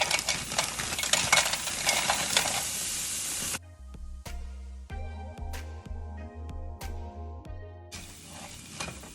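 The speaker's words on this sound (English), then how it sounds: "start sauteing these peppers and onions with my" Peppers and onions sauté with plant-based beefless ground in a hot pan, a loud sizzle that drops away midway to a series of spoon taps and scrapes against the pan before the sizzling returns.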